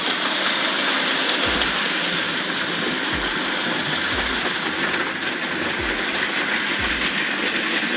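A Class 08 shunting locomotive draws its train slowly into a siding at Broughton, a steady rumble of engine and rolling stock with regular wheel clunks over rail joints, continuous and fairly close, no talking.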